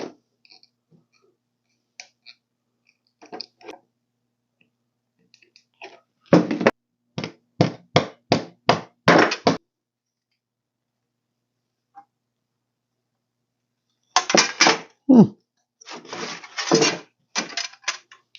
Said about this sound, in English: I'm going to cut a door stop